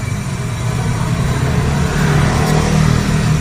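A car engine at a machine shop in Bicol, where its chassis is being rebuilt, runs loud and close with a rough, steady drone that rises slightly as the revs pick up.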